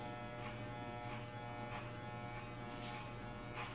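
An electric hair clipper buzzes steadily at close range while cutting hair, a continuous low hum with faint periodic rasping pulses and no talking.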